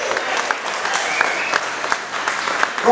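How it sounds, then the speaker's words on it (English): Applause from the audience at a football club's end-of-season presentation evening, honouring the under-21s team. Dense clapping holds steady for three seconds with a few sharper claps and some faint voices mixed in. "give the under 21s a big round of applause"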